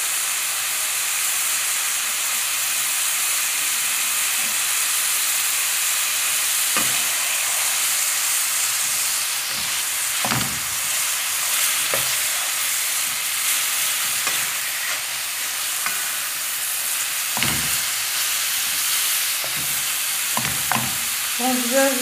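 Garlic and minced meat frying in a pan give a loud, steady hiss and sizzle, broken by occasional scraping stirs and spatula knocks, close up with no voices.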